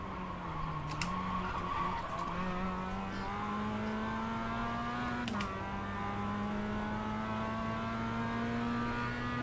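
A Mazda MX5 in the iRacing game at Summit Point braking hard, engine drone shifting pitch as tires squeal, with a couple of sharp clicks, loud and continuous with no speech.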